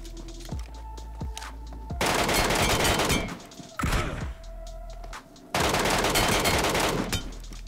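Automatic gunfire bursts in PUBG Mobile Metro Royale, with dense rapid volleys separated by short pauses and a few single sharp shots, loud and close with no talk over them.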